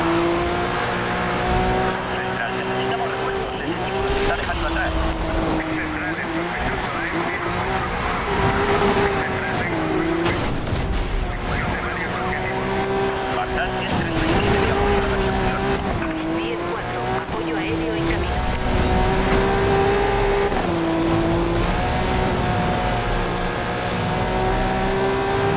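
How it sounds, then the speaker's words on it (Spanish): Car engine racing in the Need For Speed Rivals video game, a loud sustained roar that rises and falls through gear shifts, with tire squeal along the way. "Qué rico suena el motor de este hijo de puta."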